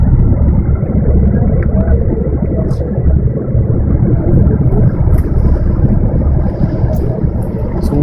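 Rushing floodwater fills a street on a rainy day in western Cali, a dense, continuous churning roar that stays loud and close throughout, with faint traffic sounds above it.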